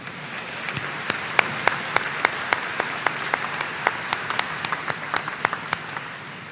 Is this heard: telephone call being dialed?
no